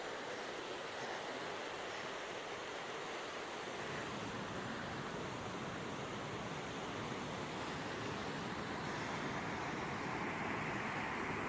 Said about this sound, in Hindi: दरिया का बहता पानी